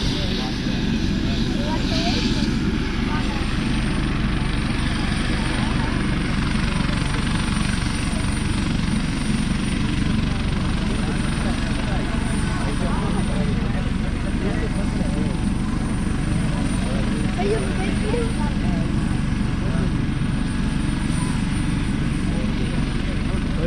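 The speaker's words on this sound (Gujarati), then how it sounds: "હવે ફૂલ સ્પીડ થઈ છે હેલિકોપ્ટરની હવે આગળ થોડી ક્ષણોમાં ઉડાન ભરશે" A helicopter engine roars continuously and loudly at full power before takeoff, a steady dense rotor and turbine drone with voices faintly beneath it.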